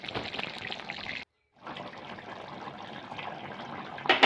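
A broiler chicken curry bubbling in a pot, giving a steady watery simmer and gurgle that stops briefly, then resumes with a louder burst near the end.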